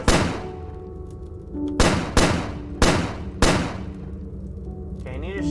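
Four loud gunshots in the video game Starbound fire at an uneven pace over droning game music, each a sharp close crack with a short decaying tail, ending with a faint electronic warble.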